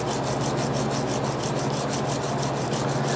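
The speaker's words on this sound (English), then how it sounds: "I think I'll use the Dremel tool." A Dremel tool grinds a metal part for a five-cylinder engine, making a continuous loud, close rasping roar with a steady pulsing texture throughout.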